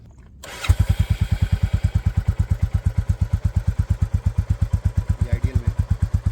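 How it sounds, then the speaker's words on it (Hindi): Royal Enfield Bullet 350 Standard motorcycle starting up, then a loud, even, thumping single-cylinder exhaust beat at idle, close and steady throughout. "एक बार इसका जस्ट हमको एग्जॉस्ट सुना दीजिए आप एक बार"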